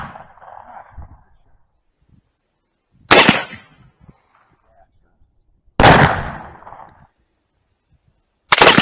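Black-powder gunshots from an 1860 Army revolver fired at a 20-yard target, three sharp, loud cracks spaced a few seconds apart with brief echoing tails, and a voice speaking quietly between them.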